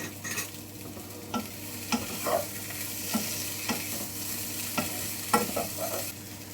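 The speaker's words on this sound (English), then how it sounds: "Mix everything with the spices and some salt." Potato curry being stirred together with spices and salt in a pan, giving soft repeated scraping and stirring strokes over a low, steady sizzle, close and moderately quiet with no one speaking.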